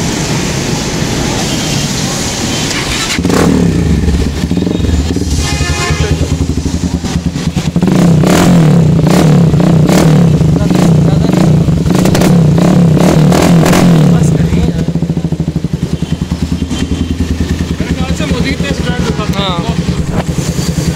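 A Super Star 200 motorcycle fitted with a changed exhaust idles with a rough clatter, then is revved hard several times close up for about twelve seconds before dropping back to a lumpy idle.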